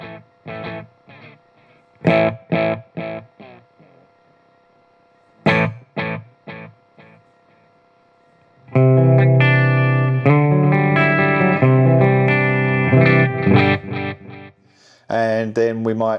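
Electric guitar played through an MVave Tank-G amp with delay: short plucked notes and chords repeat and trail off in echoes, then a sustained, louder strummed passage rings out before a final burst.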